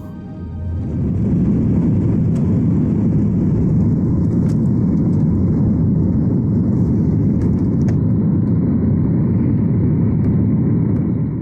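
A China Southern Airlines airliner on a mid-haul flight from Beijing to Urumqi fills the cabin with a loud, steady, low engine roar and rushing air, unbroken throughout and with no voices.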